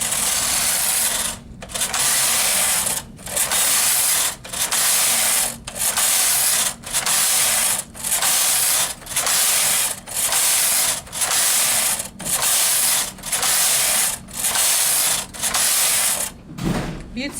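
A punchcard knitting machine carriage is pushed back and forth knitting a two-color tuck or satin stitch pattern, making a regular series of rasping, rattling passes, each about a second and a half long and separated by short pauses.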